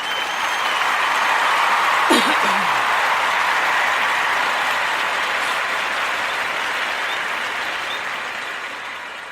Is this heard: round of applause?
yes